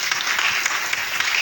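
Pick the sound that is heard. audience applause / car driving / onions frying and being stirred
audience applause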